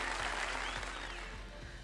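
Children at an online Sunday church service clap in thanks to God, a soft, short burst of applause with a low hum underneath, fading slightly over two seconds.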